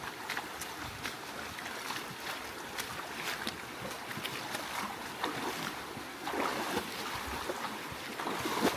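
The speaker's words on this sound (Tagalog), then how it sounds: "Naku, malakas yung agos." A strong river current rushes during a river crossing near a remote farm, a constant close, broad watery wash mixed with gusty wind buffeting, swelling slightly toward the end.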